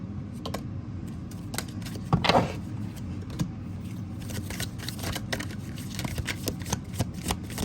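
A new tarot deck is shuffled close by, with a series of quick, crisp riffling and slapping sounds over a low background hum, one louder flurry partway through and no talking.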